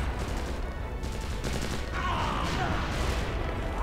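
Unit gunfire from the strategy game Empires: Dawn of the Modern World crackles in dense, overlapping volleys throughout, a continuous fusillade of rifle shots with a faint whistling sweep in the middle of the battle din.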